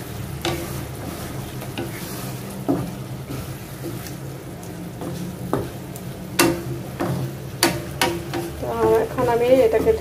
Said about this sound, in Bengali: ভালো করে একটু মাছটা কষাই নিলে হয়